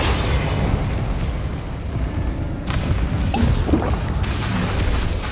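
Spell explosions from the Hogwarts Legacy video game, a dense run of booming blasts and crackling bursts that stays loud and continuous, with sharper impacts partway through.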